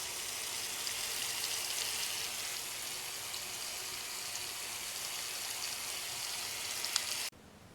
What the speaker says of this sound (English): So I want to just fill this up with some water